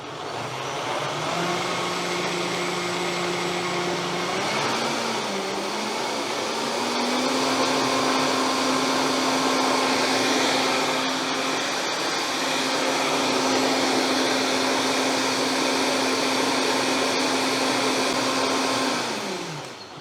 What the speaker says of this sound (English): now we can just blend this on low speed just to combine it